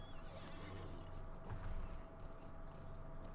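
A horse in the Lord of the Rings Online game neighs and whinnies, backed by steady clip-clopping hooves and low ambient game music, with one louder swell midway.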